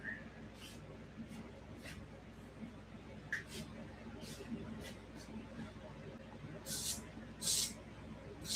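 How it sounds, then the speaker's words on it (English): Lubricant sprays in short hissing bursts into the seat tube of a 1979 Schwinn Le Tour bicycle with a stuck seat post, several quick spritzes followed by two longer ones, fairly faint and close. "spray some more stuff in there."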